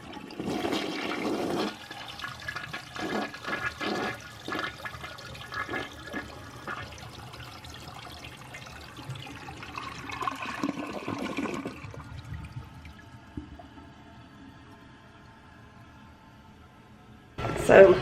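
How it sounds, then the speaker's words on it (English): A household toilet flushing up close, with a loud rushing gurgle that fades into trickling refill water and a renewed burst of sound at the very end. "I'm going to go ahead and flush the toilet"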